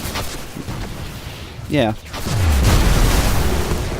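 Grenade explosions in Destiny rumble as a deep, sustained roar with a sweeping low tone, preceded by scattered pops and a whistling effect, while a voice speaks briefly over it.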